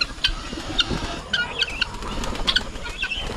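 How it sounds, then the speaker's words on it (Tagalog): Pet pigeons flap their wings in a series of quick, close bursts over a steady outdoor background, with soft scattered flutters between the louder beats and no talking. "gusto nilang lumabas yung ating mga alagang kalapate para makapagrunda sila"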